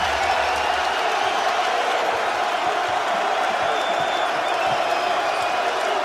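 Big Ten basketball crowd, Iowa versus Nebraska, cheering after Howard's three-pointer: a steady, loud arena roar with whoops and applause, with indistinct voices mixed in throughout.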